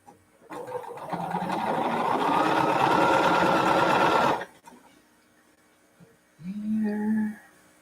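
A sewing machine joins quilt pieces together in one close, steady run of a few seconds, followed by quiet and a short low hum near the end.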